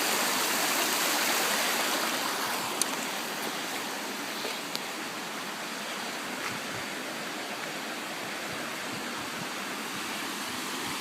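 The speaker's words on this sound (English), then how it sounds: "this bit here is locally known as the Seven Waterfalls" Rushing water pours steadily in a constant broad roar as the River Amber tumbles over a series of small waterfalls in Derbyshire, with no voices.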